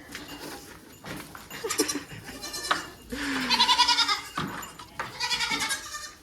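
A mother goat and her baby goats bleat back and forth in several loud, close calls, some long and quavering, with scuffling and clatter between them.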